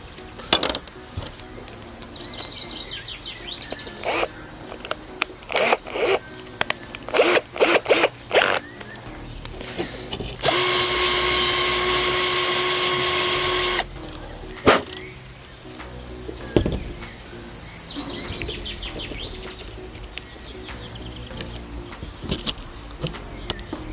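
A small drill bores a hole in a fishing pole roller mount for a Preston Innovations Pulla Bush C-drome, giving a loud, steady whine for a few seconds between clicks and handling noises up close.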